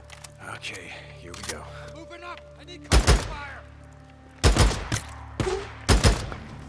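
Bursts of gunfire in Days Gone, several rapid volleys of loud shots separated by pauses, with a voice talking at the start.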